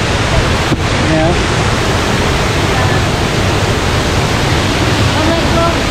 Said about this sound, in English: Oh, the waterfalls.